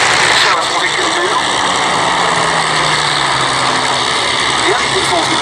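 Steady drone of the B-17 bomber Sally B's piston engines passing at a Duxford air show, a broad continuous roar with a faint rising whine, heard at a distance under crowd ambience.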